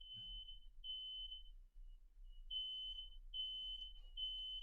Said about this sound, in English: Little fire alarm going off.